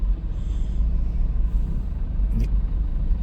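Vehicles queued in traffic on a pothole-damaged bridge on the Pali-Pinjal route give a steady low engine rumble, with a brief hiss like an air brake near the end and no talking.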